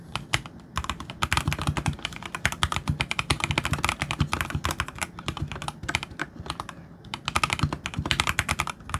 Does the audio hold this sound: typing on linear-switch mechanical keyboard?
yes